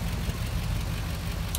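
A 1969 Buick Riviera with its 430 V8 runs steadily at idle, a deep, even rumble close by with no talk over it.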